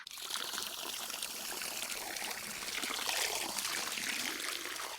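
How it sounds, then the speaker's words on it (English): Steady trickling and splashing of water running from a tap into a bathtub in a visual novel, a continuous, fairly close bright hiss with no voices over it. "Allan turned on the tap, releasing a stream of cold water that soon warmed up"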